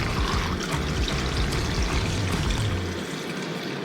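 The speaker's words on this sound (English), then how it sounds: "pour it directly over our frozen wings." Pickle-juice brine pours over frozen chicken wings in a steady, close liquid stream that trickles and splashes for several seconds, then tapers at the end.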